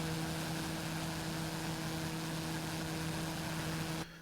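The turboprop engine of a TBM900 drones steadily in X-Plane 11 at New Orleans airport, a loud continuous hum with strong low tones that cuts off sharply near the end.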